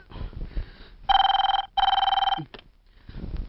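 A telephone bell rings in a Telugu comedy movie scene: two long, loud, steady ring bursts separated by a short gap, with quieter room sound before and after.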